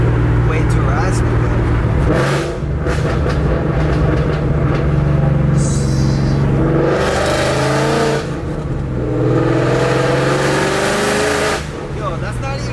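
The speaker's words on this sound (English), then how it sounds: "I thought having my resonators off would make it like way too raspy" Car exhaust with the resonators removed revs repeatedly toward about 3,000 RPM, a loud, steady drone that rises and falls in waves, with people talking over it.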